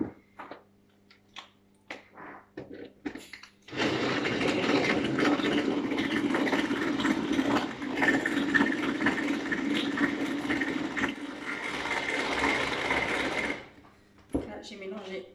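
A hand-cranked Tupperware Speedy Chef whirs steadily for about ten seconds as it mixes madeleine batter, a continuous churning rattle preceded and followed by a few soft handling knocks.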